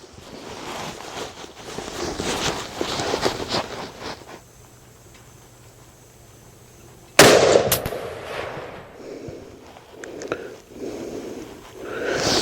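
A Ruger Model 77 MKII rifle in .264 Win Mag fires a 130-grain load at a paper target outdoors: one sharp, loud, close report cracks out after a stretch of low rustling, then decays into quieter handling noise.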